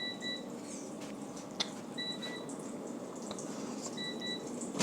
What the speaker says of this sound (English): Air fryer.